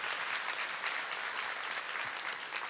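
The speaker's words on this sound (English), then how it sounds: "We can applaud that." A church congregation applauds steadily, a dense even wash of clapping that holds at a moderate level throughout with no voices over it.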